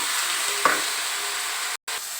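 A pan of curry sizzles steadily up close, with one brief scrape of stirring and a short drop in the frying noise near the end.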